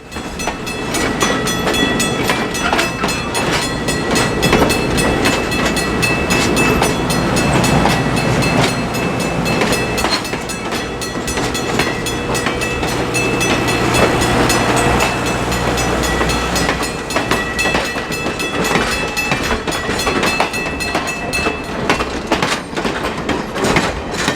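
Conway Scenic Railroad's old high-hood diesel locomotive 216 rumbles steadily along the rails past Intervale, a loud continuous engine drone with rolling wheel noise and faint clatter, heard alone without voices.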